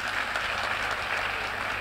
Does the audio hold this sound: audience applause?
yes